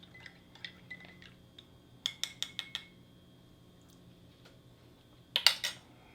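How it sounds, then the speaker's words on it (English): A spoon stirs a mocha drink from a French 24-hour ration, giving a quick run of four or five light metallic clinks against the cup, then a brief clatter a few seconds later, soft and close in a quiet room. "And we'll give our mocha drink a quick mix."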